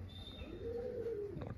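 A Kalpotiya breeder pigeon gives a single soft, drawn-out coo in a home loft, faint and close, with a little low background noise.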